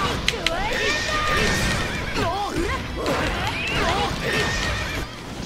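A horse in JoJo's Bizarre Adventure: All Star Battle R neighs repeatedly with wavering whinnies, mixed with game hits, crashes and hoof clatter, while a person talks over the action.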